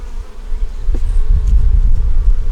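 Honeybees buzz in a dense, steady swarm around an opened hive during an inspection for the queen and food stores. The buzzing is close and loud throughout, with no talk.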